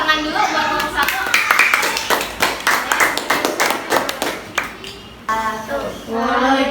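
A third-grade primary school class claps in rhythm for a student group after its science presentation. The clapping is patterned and quick, with several bursts of claps, and children's voices can be heard around it.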